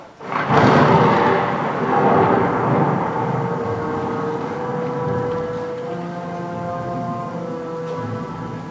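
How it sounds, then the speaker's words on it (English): A loud crack of thunder from a thunderstorm opens the scene, then rumbles and slowly fades over several seconds beneath a steady low hum. "Must be the storm."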